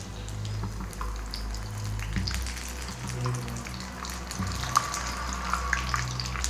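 Chicken noodle cutlets fry in oil on a low flame, a continuous bubbling sizzle with a low rumble beneath, occasional sharp crackles and a faint clink as they are turned.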